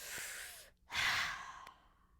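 Forceful exhale from a flute breathing technique: a long, loud breathy rush of air blown out in one sustained push, close and alone, after a brief quieter breath.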